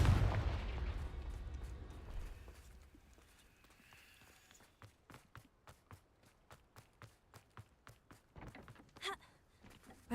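A Confringo blasting spell goes off in a Harry Potter video game as a loud, low, rumbling blast that fades. A run of quick, evenly spaced footstep-like taps follows, then another sharp burst near the end.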